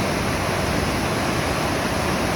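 A mountain stream on the Mount Whitney day-hike trail rushes close by in summer, making a dense, steady roar of flowing water with no pauses.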